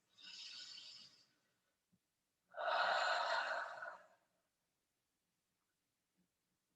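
Slow breathing during gentle shoulder circles in a restorative class, with a soft airy inhale followed by a longer, fuller exhale, close and quiet with silence between.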